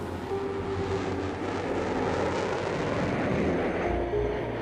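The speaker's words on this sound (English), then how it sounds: "Watch out for the delayed action sound. The plane's way ahead before your eardrums catch up with it." A jet aircraft tears past on a record-speed run over a measured mile, a loud, sustained broadband roar that swells steadily and holds through to the end with no voices.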